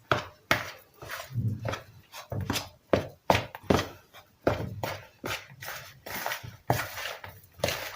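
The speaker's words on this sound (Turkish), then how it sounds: "ben bunu biraz kaşıkla çırpayım" A spoon beats dough for corn bread in a bowl, giving irregular knocking thuds against the bowl, close and moderately loud, about a dozen strokes with short pauses between them.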